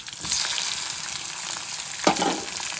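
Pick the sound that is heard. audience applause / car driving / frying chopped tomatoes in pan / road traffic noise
frying chopped tomatoes in pan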